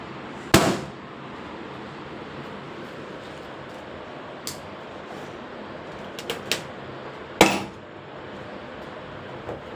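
A small child pops balloons indoors: a few sharp, loud bangs spaced irregularly, with one near the start and another later, plus a couple of fainter pops between them over a quiet room background.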